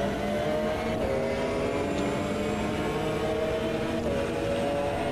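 A McLaren GTR GT1 race car engine roars steadily at Monza in Automobilista 2, a continuous loud drone with layered harmonic whine and slight pitch shifts, no voices over it.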